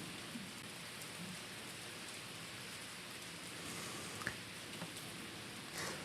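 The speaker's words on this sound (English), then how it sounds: "You can hear the rain." Steady rain falls on a mountain trail, a continuous broadband patter with a few sharper drop hits and a slight swell near the end, no voices.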